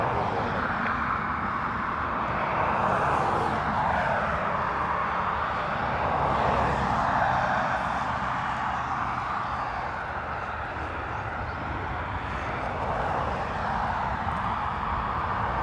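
A Lufthansa Airbus A320neo from Frankfurt at Dublin Airport gives a steady, broad jet roar that swells gently and holds at moderate loudness throughout, with no voices over it.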